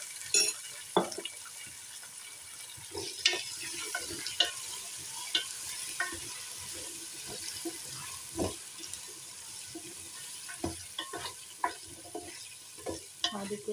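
Potatoes frying with onion in a pan, a low steady sizzle under repeated sharp scrapes and clinks of a stirring spoon at moderate distance, no talking.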